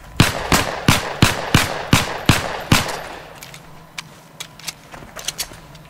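A weapon fires in the video game Heroes & Generals as seven loud, evenly spaced single shots ring out over three seconds, followed by quieter, scattered distant shots.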